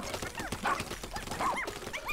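A dog in the video game Pikmin 4 gives quick yips and whimpering barks over busy game sounds and music, moderately loud and close.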